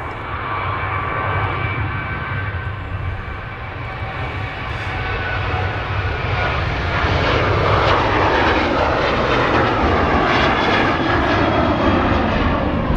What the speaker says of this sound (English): And a Ryanair on the roll.